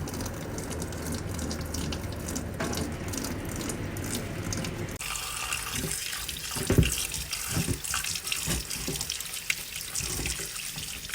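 Running tap water rinsing strained ada in a strainer at a kitchen sink, a steady splashing stream that shifts in tone midway as the flow hits the rice flakes, with occasional clinks.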